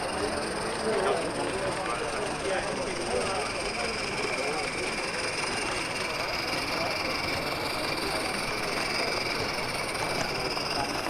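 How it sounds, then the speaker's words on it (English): Live steam model locomotive running round a garden railway layout at a model railway club exhibition, a steady continuous mechanical rumble and hiss at moderate level, with hall chatter mixed in throughout. "Just catch some live steam running on the Garden Railway."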